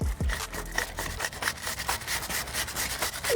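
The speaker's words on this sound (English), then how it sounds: "Now I'm gonna take my chain cleaner tool" A chain cleaner tool scrubs road grime from a BMW endurance motorcycle chain, making quick, close, rhythmic rasping strokes that repeat without a break and with no voices.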